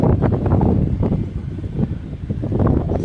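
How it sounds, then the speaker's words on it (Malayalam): Strong wind buffets the microphone in low, rumbling gusts that rise and fall continuously, with no speech. "നിങ്ങൾക്ക് വീഡിയോ കേൾക്കുന്നില്ല, അത്ര കാറ്റുണ്ടാകും."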